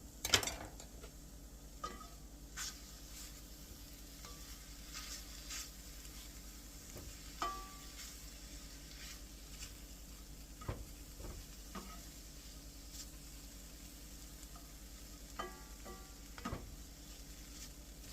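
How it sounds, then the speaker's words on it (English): Grass-fed organic unsalted butter melting in a hot pan with vegetables, giving a steady close sizzle and fry hiss throughout, broken by a few light clinks and stirring knocks. "I'm going to add a little bit of butter in here."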